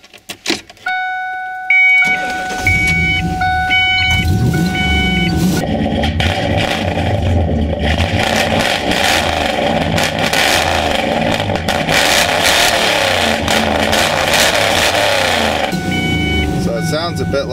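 A camouflage limousine fitted with Flowmaster exhausts rumbles and revs after a few high beeping chimes, the engine loud and close, with rough exhaust growl and a voice talking over it.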